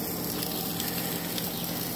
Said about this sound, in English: got the steak cooking